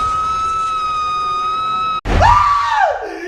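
A scientist's war cry scream in a film: a loud, wavering shriek rises then falls away, bursting in suddenly after a steady sustained tone.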